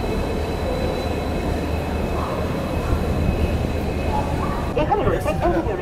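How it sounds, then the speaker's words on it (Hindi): The Sealdah Rajdhani Express runs alongside on a parallel track, heard as a steady, loud rolling rumble of wheels and carriages that fills the whole stretch. A voice cuts in briefly near the end. "सियालदह राजधानी एक्सप्रेस पैरेलल रन हो रहा है यहाँ पे हमारा सियालदह राजधानी एक्सप्रेस के साथ।"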